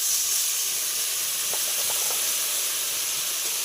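Water poured onto turmeric-and-salt spices frying in a hot pan, giving a steady close hiss and sizzle of steam with a few brief bubbling pops, no voices.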